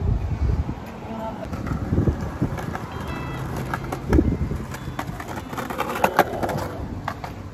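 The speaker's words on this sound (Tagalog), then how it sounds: "Malakas yung hangin." Gusty wind buffeting the microphone in low rumbling bursts on a downtown Kelowna street in summer, with faint traffic noise behind it.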